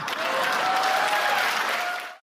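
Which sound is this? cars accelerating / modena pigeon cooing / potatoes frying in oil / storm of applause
storm of applause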